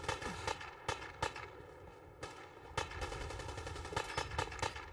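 Shots ring out during a video game firefight, mostly sharp single reports from a small 10 millimeter pistol firing in uneven bursts, fairly close and crisp over a low background rumble.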